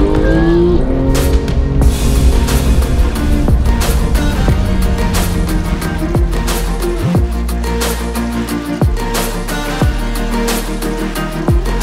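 A Ferrari 458 Speciale accelerates with rising engine revs, then drops through several quick gear shifts, each marked by a sharp pitch change, loud and close.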